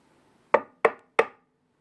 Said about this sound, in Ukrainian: Здається, хтось постукав.